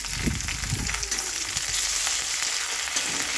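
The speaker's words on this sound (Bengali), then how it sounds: "আর এখানে কারি পাতাগুলো দিয়ে দিচ্ছি।" Curry leaves crackle and sizzle in hot oil, a loud continuous spitting hiss with a few sharp pops near the start, close up and with no voices over it.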